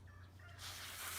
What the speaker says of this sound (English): There's my poor meat chickens.